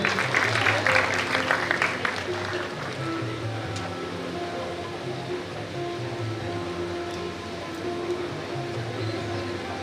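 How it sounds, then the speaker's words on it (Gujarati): Audience clapping at a community award ceremony for Saraswati honours, a burst of applause that starts loud, then thins into a quieter, continuous patter, with a faint voice and crowd murmur underneath. "જોરદાર તાળીઓથી એમને પણ વધાવીએ"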